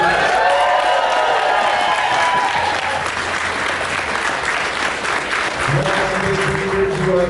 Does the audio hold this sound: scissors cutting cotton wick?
no